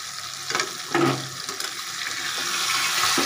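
Kajri fish frying in a pan over a lowered gas flame, a steady close hiss of sizzling oil with a few brief louder bursts as the fish is turned.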